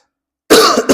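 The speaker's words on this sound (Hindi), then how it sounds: "सॉरी, ज्यादा अभी खांसी है" After a moment of silence, a single harsh cough bursts out close to the microphone, followed by a short second hack.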